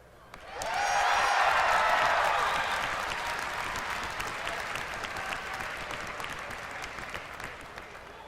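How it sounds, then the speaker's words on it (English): A large BlizzCon 2013 audience bursts into loud cheering and applause as reforging is removed from World of Warcraft, swelling suddenly, holding strong for a couple of seconds, then slowly tapering into sustained clapping. "I like how we could get that kind of cheer when we introduced reforging and the same cheer when we get rid of it."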